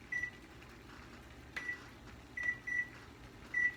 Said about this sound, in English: Let's set a timer.